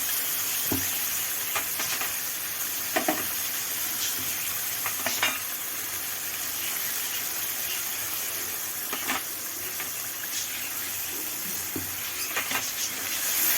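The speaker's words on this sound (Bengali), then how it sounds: "ভালো করে কষিয়ে নেব। সব মশলাগুলো একে একে আমি দিয়ে দিচ্ছি।" Spices sautéing in a pan for a paneer curry, a steady broadband sizzle running throughout with intermittent scraping clicks of stirring, close and fairly quiet with no talk.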